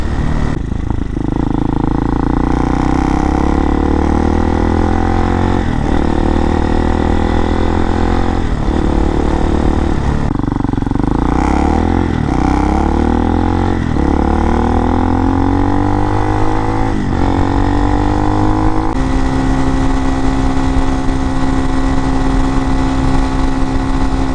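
A 2019 fuel-injected RPS Hawk DLX 250 motorcycle engine runs steadily throughout, idling and revving with rising and falling pitch, loud and close.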